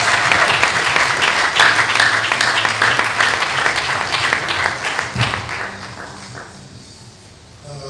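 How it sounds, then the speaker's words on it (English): Audience applause for a university vice-chancellor at an advisors workshop, a dense, steady round of clapping that holds strong for several seconds, then thins and fades toward the end. "Shall we give my VC a wonderful round of applause?"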